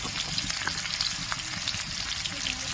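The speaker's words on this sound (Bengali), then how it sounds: "তেলটা কিন্তু একদম গরম হয়ে গেছে সেগুলো দিয়ে দিলাম এগুলো একদম লাল করে ভেজে নেবো" Onions fry in very hot oil for an aloo soybean curry, with a loud, continuous sizzle and crackle and no voices.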